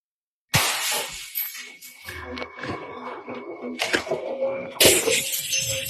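A piece of glass shatters with a sudden bright crash, then a long scattering tinkle and clatter, and a second loud crash near the end.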